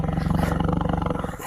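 A big cat, leopard or tiger, gives a low, continuous harmonic growl close by in Sragen, rumbling steadily for over a second without a break.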